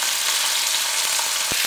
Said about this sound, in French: Quand l'huile est bien chaude, voilà, on entend, ça grésille.